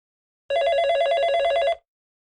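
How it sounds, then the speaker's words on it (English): A cartoon telephone bell rings once in an animated short, a single loud, bright, buzzing trill lasting just over a second before cutting off into silence. "It's the phone."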